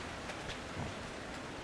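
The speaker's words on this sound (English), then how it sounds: "It's raining." Steady rain falls in the video game Outlast 2, a soft, even hiss of drops that stays faint and constant with no other clear sounds.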